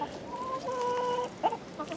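Backyard chickens clucking close by, a run of steady tonal clucks followed by a sharper squawk near the end, with no one talking.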